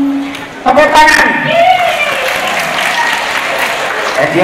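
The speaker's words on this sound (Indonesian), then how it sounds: "Tepuk tangan." Audience applause breaks out at a training workshop on reading and writing, a burst of dense clapping that starts suddenly and carries on steadily, with voices talking over it.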